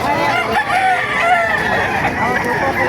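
Roosters crow repeatedly over a dense, noisy crowd of clucking chickens at a chicken market in Calumpit, Bulacan, with voices murmuring in the background throughout.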